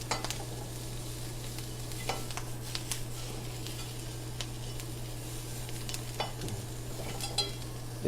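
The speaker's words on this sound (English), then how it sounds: "It has a nice sizzle to it." Food sizzles in a pan after being seasoned with sugar and a pinch of salt. A steady soft frying hiss runs throughout, with occasional stirring scrapes and light clicks, and no talk.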